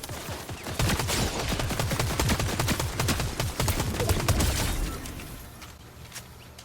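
Rapid bursts of gunfire, many sharp overlapping shots in a dense, sustained volley that stays loud for several seconds before tapering off with a few scattered reports.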